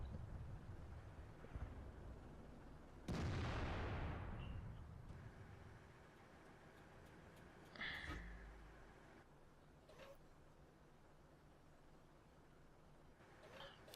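A tank cannon fires in World of Tanks from the AMX AC mle. 48 on the Malinovka map: one heavy, booming blast with a rolling decay, then a smaller thud a few seconds later over a low, steady battlefield rumble.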